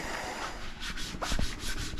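A Scotch-Brite pad scrubs along a ski base in short back-and-forth strokes, making a soft, steady abrasive rasp close by, with no talking.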